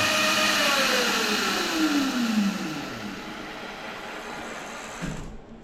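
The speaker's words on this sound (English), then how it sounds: "we're going to power it up and give it some throttle" A Razor MX350 electric dirt bike's motor, freshly fitted with replacement batteries, whines loudly under throttle, its pitch sliding steadily downward as it spins, then settles into a steady hum before cutting off near the end.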